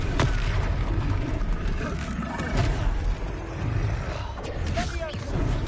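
A Confringo blasting spell explodes in Hogwarts Legacy, a muffled boom with rumbling low-end impacts set among busy combat effects and a character's voice.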